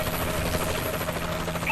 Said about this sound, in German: Verbündete Drohne über uns!